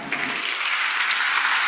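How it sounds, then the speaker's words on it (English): A roomful of people at a championship breakfast applauding student athletes, dense steady clapping sustained throughout, close and loud. "if we could give a big round of applause"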